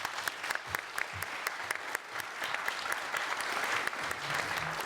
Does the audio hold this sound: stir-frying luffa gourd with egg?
no